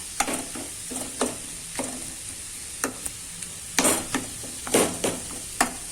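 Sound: mashing boiled sweet potato in a pan

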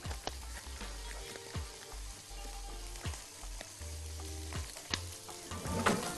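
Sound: stirring meat with onions and potatoes in a pan

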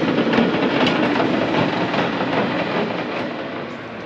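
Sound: old trains at the last stop in San Francisco

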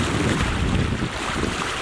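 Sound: sailboat motoring along on calm sea

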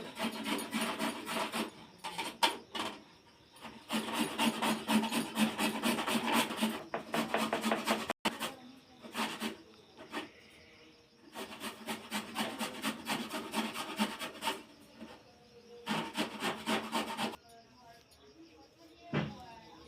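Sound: grating carrots

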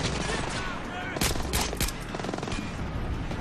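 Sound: gunfire at enemies in Splinter Cell Blacklist video game

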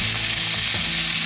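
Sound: tenderloins frying in a pan

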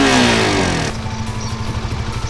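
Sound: Suzuki GSX-R150 motorcycle engine starting with keyless ignition

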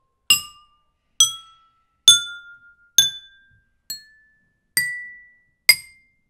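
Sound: glasses filled with water played as musical notes

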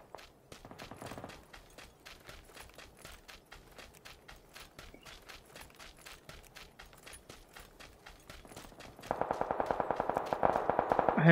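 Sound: gunfire in the video game PlayerUnknown's Battlegrounds

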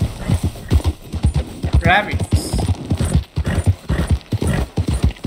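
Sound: horse riding hoofbeats in the video game Red Dead Redemption 2

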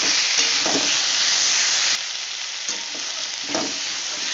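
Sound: frying and stirring onion paste and potatoes in oil

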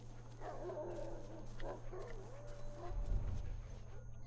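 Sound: dog barking in video game The Last of Us

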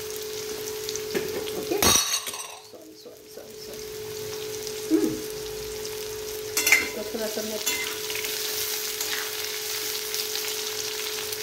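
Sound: potato and carrot frying with panch phoron spices in oil

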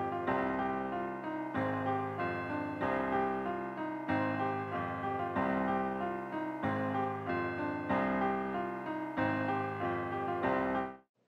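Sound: old school trap bell sound in a Detroit type beat

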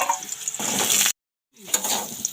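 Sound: potatoes and kohlrabi frying in oil in a wok

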